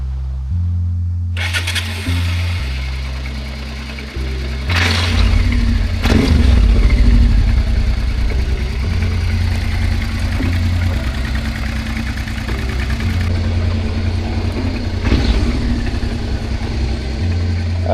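Old Honda Africa Twin 750 motorcycle cranking over, firing up and settling into a loud, steady close idle that rumbles on, with a couple of blips partway through.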